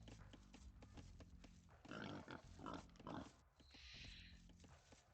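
A pig grunts and oinks in a strategy video game, several rough snorting bursts in a row over low humming game sounds, with no talking.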